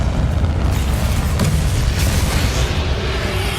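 A loud explosive blast from the Confringo spell in Hogwarts Legacy rumbles close and continuously, with deep booming and crackling bursts layered together throughout.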